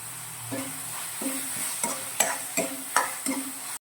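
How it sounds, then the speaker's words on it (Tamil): Chopped tomatoes with turmeric sizzle steadily in a pan for a simple side dish, as a spoon scrapes through them in several distinct stirs near the microphone and no one speaks. "தக்காளி நல்லா வதங்கட்டும்"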